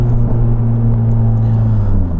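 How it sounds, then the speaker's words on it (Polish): Honda Civic Type-R with a naturally aspirated engine running loud and close, a dense steady engine drone with strong low harmonics held at high revs, shifting slightly in pitch. "No i ta reakcja na gaz w wolnosącym motorze"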